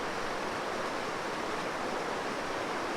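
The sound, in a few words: rushing white water at Smalley Falls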